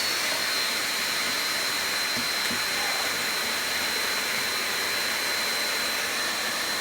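A Miele U1 Automatic upright vacuum cleaner runs steadily with a loud, even broadband whoosh of strong suction and a thin high whine, continuous and close with no speech.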